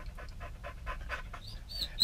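A dog pants quietly in a rapid, rhythmic series of breaths, faint and close against low background rumble with no talk.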